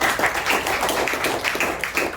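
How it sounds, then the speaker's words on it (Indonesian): A crowd applauds steadily, dense clapping filling the whole stretch at even loudness with no voices. "Boleh minta tepuk tangannya lagi."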